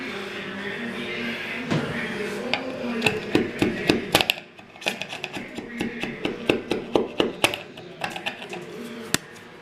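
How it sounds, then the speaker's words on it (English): Chiseling off an old wall anchor, with a run of sharp hammer-on-chisel strikes against the wall, irregular at first then in a steadier series of close, loud taps with faint background hum. "I'm gonna chisel off this old wall anchor if that's possible."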